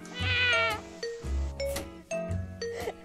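A person imitating a cat, with a few drawn-out meows and mewing cries in quick succession, close and fairly loud.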